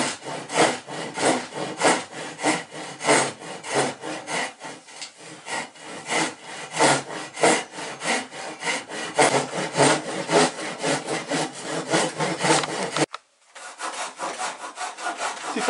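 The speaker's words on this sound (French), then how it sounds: "Maintenant, tu vas couper avec la scie japonaise." A Japanese pull saw cuts through wood in a boatbuilding workshop, close rhythmic rasping strokes repeating steadily, then a short pause before the sawing resumes.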